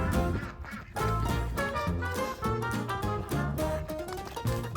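Ducks on a homestead quacking loudly and close, a dense run of repeated quacks and honks overlapping almost without pause.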